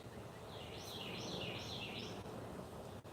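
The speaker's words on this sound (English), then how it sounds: "Listening to the birds chirp." Birds chirp outdoors, faint and somewhat distant: a short series of quick, high chirps repeats several times over a steady background hiss.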